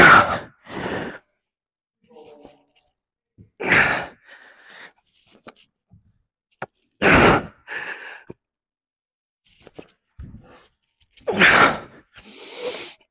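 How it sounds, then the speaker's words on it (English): A person breathes hard during a CrossFit squat set: loud, sharp exhales and gasps arrive in separate bursts a second or two apart, close to the microphone, with quiet gaps between them. "You hear me breathing the whole time."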